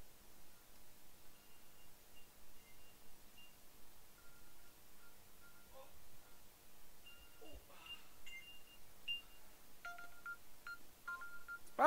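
Mobile phone ringing somewhere out of sight, set off from a smartwatch to locate it: faint, intermittent electronic ringtone beeps that grow louder and more frequent toward the end, over quiet room rustle.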